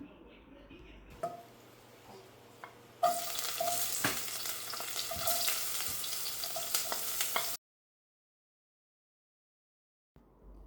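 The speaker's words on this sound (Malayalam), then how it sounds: "ആദ്യം സവാള ഒന്ന് വഴറ്റിയെടുക്കാം" Onions sautéing in hot oil in a pan for a potato and dry fish curry: a steady close sizzle with stirring scrapes for a few seconds, faint talk early on, then silence.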